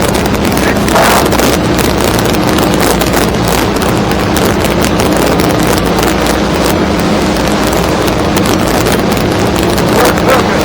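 A Stabicraft 2250 Ultra Centrecab boat pushed by a Yamaha F300 outboard runs at speed, its engine roar blended with loud, constant wind buffeting across the microphone and rushing water, with no one speaking.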